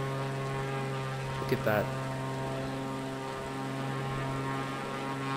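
A propeller airplane engine in the Microsoft Flight Simulator video game drones steadily through the whole stretch, a constant harmonic hum, with a brief spoken remark over it near the middle.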